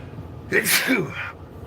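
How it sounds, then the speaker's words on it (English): A single sharp human sneeze bursts out loud and close, lasting about a second against a quiet room background. "I know I got one more coming because I sneeze in pairs."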